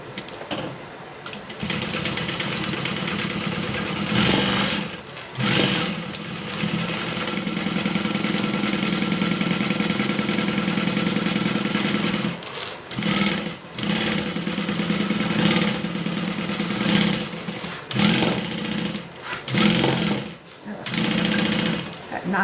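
Sewing machine stitching through three fabric layers of a wallet, a fast mechanical knocking hum running almost nonstop with brief pauses, close and steady, with a voice speaking over it at times.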